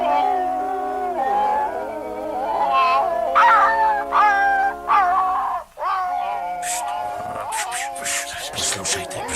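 Dogs howl in long drawn-out wavering wails, close and loud, rising and falling with yips and whimpers toward the end.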